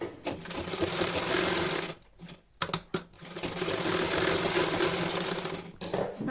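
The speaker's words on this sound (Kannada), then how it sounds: "ಒಂದು ಕಾಲು ಇಂಚ್ ಮೇಲೆ ಸ್ಟಿಚ್ ಹಾಕಿ" Sewing machine stitching fabric for a rabbit hat patch, a close, steady motor whir in two long runs broken by a short pause with a few sharp clicks, no voice over it.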